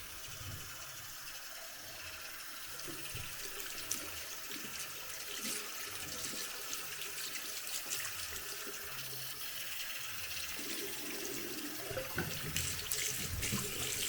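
Tap water runs steadily into a sink while 4C natural hair is wetted for washing, a continuous close hiss and splash with small shifts as the flow is disturbed.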